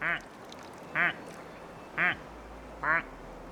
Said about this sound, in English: Most of them just quack.